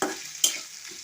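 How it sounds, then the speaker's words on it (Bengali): Whole cumin with onion and garlic sizzles briefly in a pan, quiet and close, with a sharp stir or scrape of the utensil partway through and no talking. "গোটা জিরে এইগুলো আমি এখন একসঙ্গে একটু ভাজা ভাজা করে নেব লাল লাল করে"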